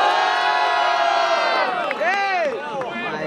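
A crowd at a rap battle cheers, whoops and shouts loudly and continuously, a dense wall of voices close by.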